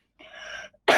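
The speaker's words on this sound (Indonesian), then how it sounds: "lagi batuk." A single cough from a speaker partway through a talk on moving from graphic design to UX design, heard close and loud, sharp and short at the end after a stretch of breathy, noisy sound.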